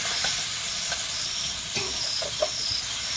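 Chicken meat frying and sizzling in a pot during a home village cooking session, a steady close hiss with a few brief sputters and pops, no voices.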